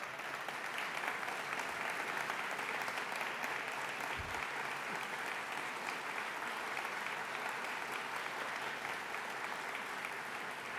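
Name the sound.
audience applauding award recipients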